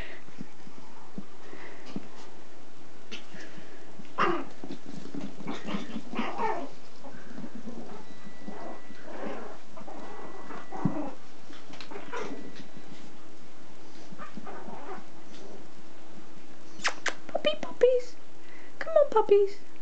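Ten-week-old Pomeranian puppies play, letting out faint, scattered whimpers and squeaks, with a few sharper yelps near the end, under a person coaxing them.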